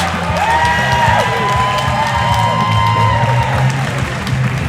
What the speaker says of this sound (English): And the crowd definitely showing their appreciation.